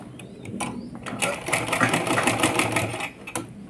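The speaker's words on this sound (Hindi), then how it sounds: "ऐसे तिरछी सिलाई हमें वापस ऊपर लेके आनी है।" A sewing machine stitching a foam sheet swing for a Laddu Gopal idol, a close, fast mechanical rattle that starts in short taps then runs steadily for about two seconds before stopping.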